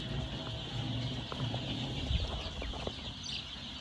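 Chickens cluck steadily around a poultry house, a busy close flock of fowl heard alone with no talk.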